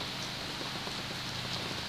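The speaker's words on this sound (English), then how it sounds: "It's raining, raining, and we have high water here." Steady rain patters densely on surfaces, a constant hiss of drops close by with no voices.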